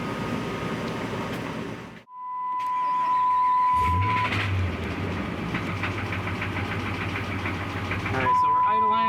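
A 5.7L Hemi V8 in a 2007 Dodge Ram idles steadily and loud with a low rod-knock clunk, while a person talks over it and a brief tone sounds partway through.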